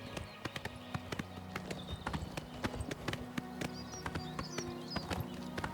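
Horse galloping along a road in Oblivion Remastered, rapid rhythmic clip-clop hoofbeats at close range with a faint steady game ambience beneath, no speech.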